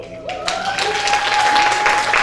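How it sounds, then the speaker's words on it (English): A banquet crowd breaks into applause for a school sports coach, swelling quickly into steady, fairly loud clapping with a faint whistle-like tone running through it. "So if y'all give him a round of applause."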